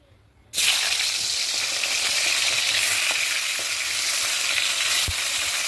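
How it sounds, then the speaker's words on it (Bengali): Fish heads sizzle in hot oil in a wok, a steady loud frying hiss that bursts in abruptly after a brief quiet moment and holds evenly throughout, with a faint clink near the end. "মাছের মাথাগুলো এবার আমি এক এক করে ভেজে নেবো"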